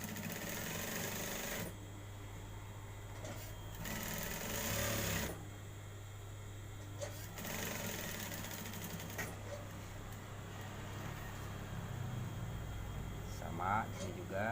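Sewing machine stitching a men's shirt collar runs in steady bursts with short pauses, a close mechanical whir that keeps going under someone speaking.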